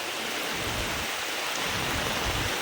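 Heavy monsoon rain pours steadily on waterlogged streets, a dense, loud hiss of drops hitting surfaces with low rumbling underneath, no voices.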